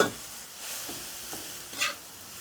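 Sesbania flowers picked from the field are stir-fried with kale in a pan. A gentle sizzle runs under a few soft stirring scrapes, each rising briefly and then falling back, with no voices.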